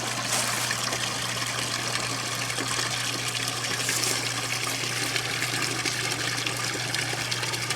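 An outdoor washing machine hooked up to a garden hose runs its drain cycle, pushing out a steady, fairly quiet trickling flow of water over a constant low pump hum.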